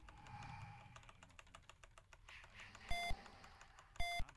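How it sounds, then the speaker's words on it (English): Two sharp electronic beeps ring out in World of Warcraft, each a short harsh tone, over a steady patter of computer keyboard typing and faint background game sounds. "That beep is horrendous"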